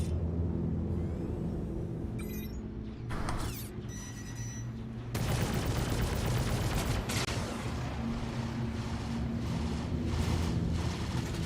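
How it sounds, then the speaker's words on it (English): Missiles strike a ship in the Star Citizen space game: a dense barrage of rumbling blasts and rattling mechanical clatter. It swells loudly halfway through and keeps pounding with no voices. "Wish they would stop shooting missiles at me."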